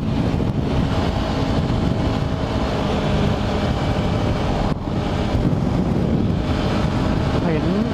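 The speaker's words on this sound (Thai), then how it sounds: "ก็ลมที่นี่นี้แรงมากครับ" Strong wind at Coronet Peak in New Zealand buffets the microphone with a loud, continuous roar, and a voice talks faintly beneath it.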